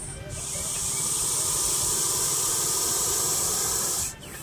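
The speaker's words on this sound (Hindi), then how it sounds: "अपना गुस्सा जताने के लिए प्रेशर कुकर की सीटी की तरह आवाज़ करता है" A Russell's viper gives a long, forceful hiss like a pressure cooker whistle, one continuous breathy blast lasting about four seconds, close and loud before breaking off.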